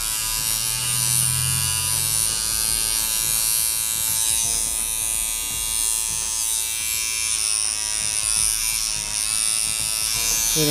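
A Kemei 1949 hair clipper with chipped blade teeth runs continuously with a loud, harsh buzz and a rattling, uneven edge, close up and steady throughout.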